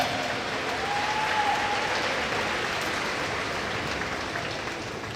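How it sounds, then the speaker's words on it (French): Spectators applauding the volunteers at an outdoor show jumping event in Montagnole, a broad, even wash of clapping at moderate distance, soft and sustained throughout. "pour tous les bénévoles de Montagnole, applaudissez toute cette belle équipe"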